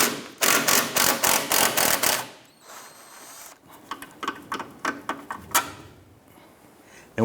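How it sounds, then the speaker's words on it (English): A 15mm socket on a ratchet removing a nut from the rear engine mount of a 2005-2007 Ford Five Hundred, with a rapid burst of loud clicking ratchet strokes followed by a fainter, slower series of clicks, up close and without speech. "Using a 15mm socket, we're going to remove the nut and pull the bolt out."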